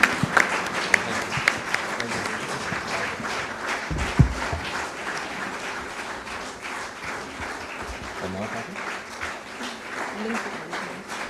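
An audience at a ceremony applauds Pakistani javelin athlete Arshad Nadeem with sustained, lively clapping that carries throughout. A voice speaks over the applause at times.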